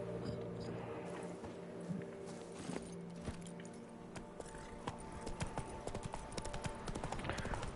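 Hooves of Roach, the horse in The Witcher 3 video game, pound at a steady galloping clip-clop through a busy tourney soundscape, loud and continuous with other game noise layered over it.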